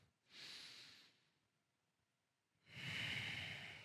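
Breathing in and out through the nose during a shoulder stretch, two slow airy breaths separated by a pause, the second louder and fuller, close and alone.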